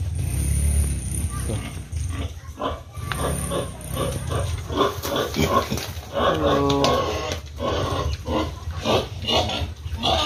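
Pigs grunt and squeal repeatedly in a busy pen, with someone talking over the steady animal noise close by.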